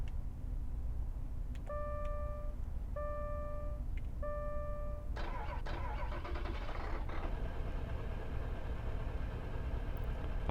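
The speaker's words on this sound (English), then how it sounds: "Let's start it up." Pickup truck engine starting in Farming Simulator 2013: a few repeated electronic beeps, then the starter cranks and the engine catches into a steady idle, heard over faint background hum.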